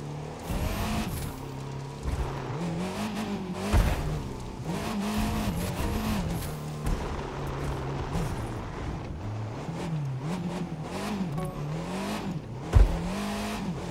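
Racing car tires squealing in The Crew 2 video game, a continuous wavering screech over steady engine drone with a couple of brief louder bumps, close and loud throughout.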